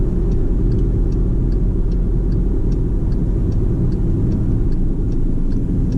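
A 2016 Volkswagen Jetta 1.4T engine drones steadily and loudly near redline at about 5,700 RPM, a dense low rumble and whine that holds constant throughout with no voices.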